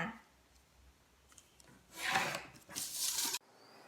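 A line is drawn on sewing pattern paper for a loose V-neck top: two close, scratchy rubbing strokes of under a second each, louder near the end, after quiet rustling, with no talk.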